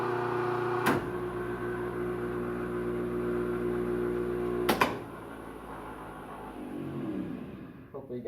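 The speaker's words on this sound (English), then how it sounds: "it is really noisy when it's in part winding because it's out of phase really bad while it's in part winding" An electric motor starting with a part winding start runs with a loud, rough, out-of-phase hum and whir. Two sharp clunks break it as the windings switch, then the drone drops and changes as the motor runs on.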